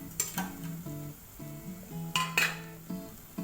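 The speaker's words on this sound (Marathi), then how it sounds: "मसाला छान परतून घ्यायचा जास्त करपवायचं नाही" Masala for black urad dal amti is stirred and fried in a pan, giving quiet sizzling with a spoon scraping and clinking against the metal, close and without speech.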